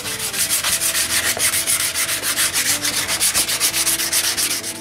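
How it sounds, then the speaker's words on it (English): Wooden tabletop edging is sanded by hand, with steady back-and-forth rasping strokes in an even rhythm, close and continuous, with no voices. "The edging is sanded by hand."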